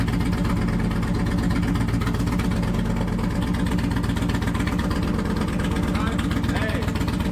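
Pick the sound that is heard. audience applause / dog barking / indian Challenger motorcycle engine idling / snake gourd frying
indian Challenger motorcycle engine idling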